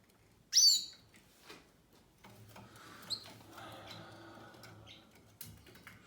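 Yorkshire canary chicks and their parents in a nest, giving a short burst of high chirps followed by faint scattered tweets over a low background hum.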